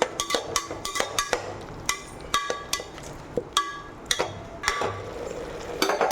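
Ivy gourd sautéed in a pan for a cooker thokku, with frequent sharp metallic clinks and scrapes of a ladle against the vessel over a light sizzle, close and fairly loud.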